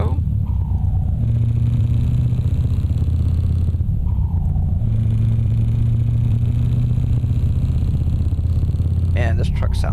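A modded truck in a PC driving game, starting out in Prague, revs its engine through two climbing acceleration runs with a gear shift between them. The deep, steady rumble stays loud and close the whole way.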